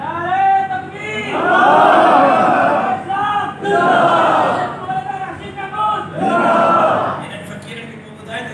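A crowd at a political rally roars a slogan back in unison, loud sustained shouts in several waves, each swelling for a second or two before fading.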